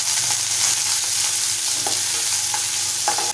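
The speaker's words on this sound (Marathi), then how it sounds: "त्यामध्ये बारीक चिरलेला कांदा घालूया।" Finely chopped onion sautéing with mustard seeds, cumin and curry leaves in a pan for Maharashtrian varan dal, a loud, steady sizzle and frying hiss heard close up with occasional stirring scrapes, no voices.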